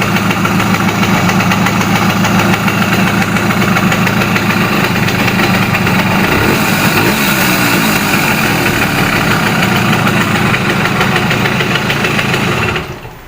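A small two-stroke engine on a Simson S51 moped idles loudly and steadily up close, its even buzzing rumble continuing until it cuts off at the end.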